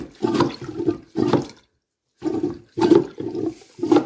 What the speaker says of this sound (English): Water leaves the toilet.